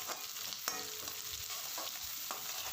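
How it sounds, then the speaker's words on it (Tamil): Small onions (shallots) sautéing in a pan, a steady soft sizzle with a few sharp clinks and scrapes of a spatula stirring, close and fairly quiet, no talking. "சின்ன வெங்காயத்தை சேர்த்து வதக்கி கொடுத்துக்கலாம்"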